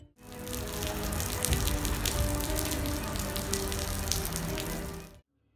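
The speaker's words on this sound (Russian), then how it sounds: "Идет дождь." Steady rain falling and pattering on surfaces, a dense close hiss of droplets that runs continuously for about five seconds before cutting off.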